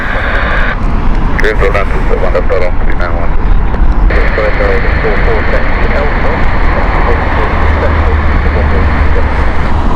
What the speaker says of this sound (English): Here we go, baby Airbus. The original baby Airbus.